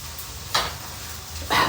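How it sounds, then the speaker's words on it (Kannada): Onions and potatoes fry in a pan with a constant sizzle, broken by two short scraping bursts as a spoon stirs them. "ಈರುಳ್ಳಿ ಮತ್ತೆ ಪೊಟ್ಯಾಟೊ ಹಾಕ್ಬಿಟ್ಟು ಅದನ್ನ ಅಲ್ಲಾಡಿಸ್ತಾ ಇರಬೇಕು, ಇಲ್ಲಾಂದ್ರೆ ಅದು ಅಂಟ್ಕೊಂಡ್ಬಿಡುತ್ತೆ"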